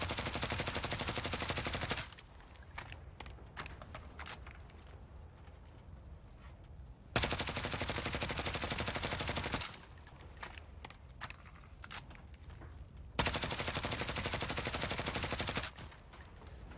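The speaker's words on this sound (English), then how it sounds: "let's see what the recoil looks like now with these attachments." A Grau assault rifle fitted with attachments fires in Warzone, sustained rapid automatic bursts in three long strings lasting a few seconds each, loud and close, with faint clinking and quieter gaps between them.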